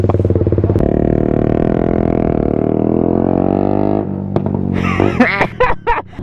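A loud motorcycle engine drones steadily at a red light with a buzzing, pulsing note, then drops off into sharper revs and rattles as nearby voices start talking over it.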